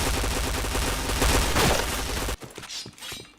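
Rapid automatic gunfire in a shooting video game runs as a loud dense burst for a couple of seconds, then cuts off into scattered quieter shots and clicks, with no speech.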